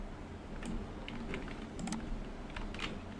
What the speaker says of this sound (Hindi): तो इसमें भी मैं हॉलीडे टाइप कर देता हूँ 18 तारीख को